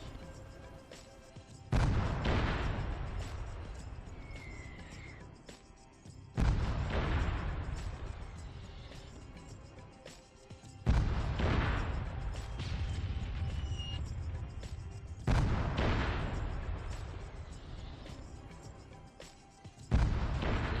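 Video game artillery strikes: five heavy explosions at roughly even intervals, each a loud close boom that decays into a long rumbling tail before the next lands.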